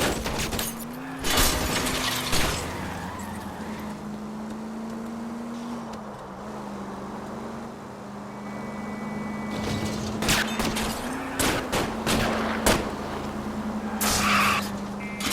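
Gunshots fired at a fleeing car's tires during an L.A. Noire chase, scattered sharp cracks over a steady engine drone, clustered near the start and end with a quieter stretch between.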